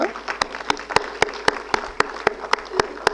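Audience at a tribute event for poet and broadcaster K.K. Nayyer claps in rhythmic unison, about a dozen sharp, evenly spaced claps over a murmuring crowd, close and moderately loud.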